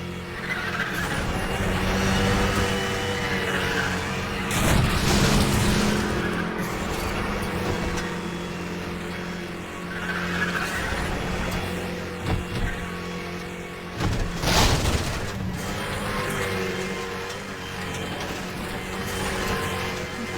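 Race cars in the Need for Speed video game, one drafting close behind another: a steady, loud engine roar runs throughout with rising and falling surges and a couple of sharp bursts, with no talking.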